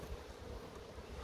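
Steady, rushing wind buffets the microphone with a low, continuous rumble and no other clear sounds.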